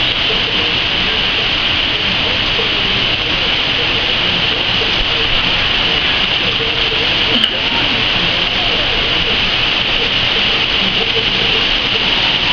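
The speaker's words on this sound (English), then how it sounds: "It's not raining, it's pouring." Heavy rain pours down steadily in a beach town, a dense, loud, unbroken hiss of falling water with one brief knock partway through.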